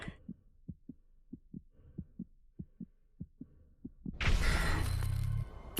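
A player's real heartbeat, picked up by heart tracking while playing Doom Eternal, thumps in a soft, steady series of about a dozen beats. A sudden loud burst of game noise then drowns it out.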